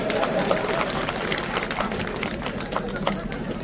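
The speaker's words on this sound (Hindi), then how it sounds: "अगर होना चाहिए तो तालियां बजाओ" A crowd at an outdoor public rally clapping steadily, dense and sustained applause mixed with murmuring voices, filling the whole moment at moderate distance.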